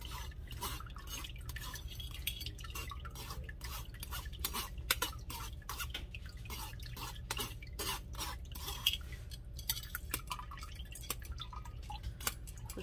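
Beef bone broth being stirred and strained, a steady busy mix of liquid dripping and splashing with light metallic utensil clinks against a pot, continuous and close throughout.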